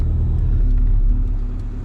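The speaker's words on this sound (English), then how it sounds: "Wait for these cars to go by." Cars rumble past on a wet road, a loud, close, continuous roar that swells and gradually eases off.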